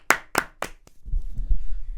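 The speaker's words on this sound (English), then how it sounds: "But let's give João Pedro round of applause." A few sharp hand claps ring out close to the microphone during a football podcast, three quick loud claps and a softer one, followed by low rumbling room noise.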